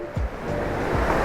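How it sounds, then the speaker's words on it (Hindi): The Alaknanda river roars loudly and steadily near its confluence with the Dhauli Ganga, a broad rushing wash of water close by, with some wind buffeting the microphone. "अलकनंदा का शोर देखो,"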